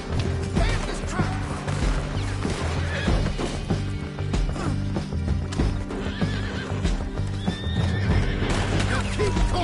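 Horses in Red Dead Redemption 2 whinnying and galloping with heavy clip-clop hoofbeats, over a dense, loud rumble of a truck and crashing action throughout.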